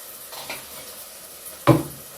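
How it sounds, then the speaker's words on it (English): An egg cracked into a hot pan at breakfast: a soft background sizzle, then one sharp burst of frying hiss as the egg hits the oil, close and short. "We are adding our egg there."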